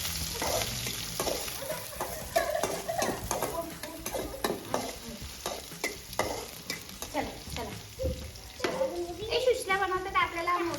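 Chilies tempering in hot oil sizzle in a pan, with intermittent stirring scrapes and clinks, while children chatter over the steady hiss.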